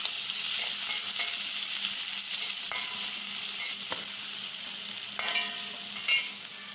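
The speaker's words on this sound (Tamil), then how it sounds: "இதை கொஞ்சம் லைட்டாக ஃப்ரை ஆகட்டும்" Cabbage, carrot and capsicum fry and sizzle in a kadai, a steady bright hiss broken by occasional clinks and scrapes of stirring, close and continuous with no talk.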